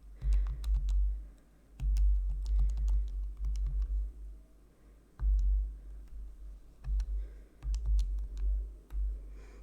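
Plastic keys on a handheld calculator pressed in quick bursts of small clicks with short pauses between, close and fairly quiet, with no talking.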